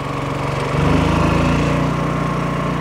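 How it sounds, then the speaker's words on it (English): A Yamaha EF3000iSEB inverter generator, about ten years old, shifts from economy mode to full throttle, its steady mechanical hum stepping up louder and faster in pitch partway through, then holding a close, even drone. "now what you're hearing is basically this generator running at full blast."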